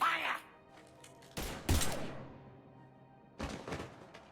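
Gunfire in the video game Mass Effect 3: a sharp burst of shots opens the scene, then a heavy volley of booming impacts, a quieter lull, and another loud cluster of shots near the end.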